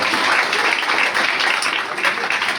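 A crowd applauds loudly and steadily, dense clapping filling the whole moment without a break.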